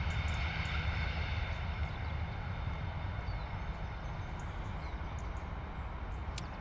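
Airbus A321 jet at London Stansted, a fairly quiet, distant steady engine rumble with a broad hiss above it, holding even throughout with no voices.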